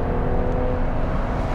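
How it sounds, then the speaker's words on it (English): Inside a Ferrari Purosangue V12 in the Sahara desert with the windows down, the engine gives a dense, loud, steady roar close by for under two seconds, with no talking. "He even drops the windows to better hear the flat 12 engine."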